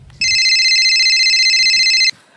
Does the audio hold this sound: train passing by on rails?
no